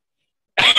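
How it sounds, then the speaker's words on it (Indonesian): A single short cough from someone speaking at a school principals' training session, close to the microphone and following a moment of silence. "Agak batuk sedikit."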